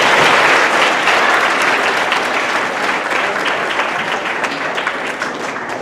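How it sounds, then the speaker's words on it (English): A middle school crowd of seventh graders at an assembly applauds a visiting youth speaker: dense, steady clapping that stays loud for about six seconds and eases slightly toward the end, with no talking over it. "Let's give him a nice round of applause."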